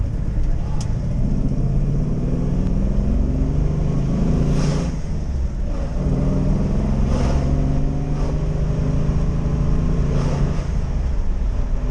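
A 1977 Pontiac Trans Am engine idles steadily up close, a continuous low rumble with occasional slight rises in revs.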